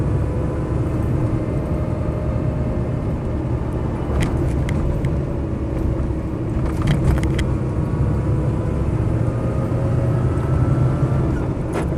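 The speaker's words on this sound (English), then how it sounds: "Nice V8 burble." A Land Rover 90 V8 station wagon burbles steadily while driving, a loud, continuous low engine rumble with road and cabin noise, plus a few light rattles or jingles partway through.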